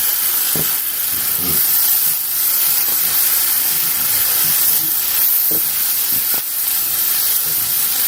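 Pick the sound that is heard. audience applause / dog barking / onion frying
onion frying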